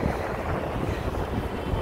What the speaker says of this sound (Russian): Ветер, ветер.